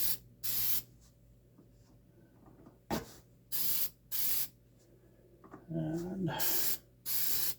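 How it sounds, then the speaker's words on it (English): Spray gun laying a final paint coat on a 1969 Camaro body, several loud hissing bursts of a second or so each, separated by pauses, with someone speaking briefly between them. "Give these guys one more spray."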